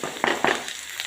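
Curry leaves hit hot oil for a spicy wheat sheera, giving two quick, close sizzling crackles in about a second, with no voices.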